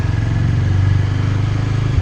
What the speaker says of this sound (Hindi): अभी मैं निकलूँगा फ्रॉम ए वेरी स्मॉल लेन, ज़रा सा ऑफ रोडिंग करूँगा विद द स्पोर्ट्स बाइक